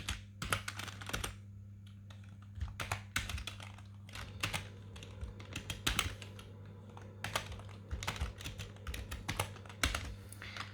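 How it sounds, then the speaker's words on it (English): Computer keyboard keys clatter in quick, uneven bursts while a Wi-Fi password is entered during a Zorin OS Linux installation, close and fairly clear over a steady low electrical hum. "I've got to type in the password."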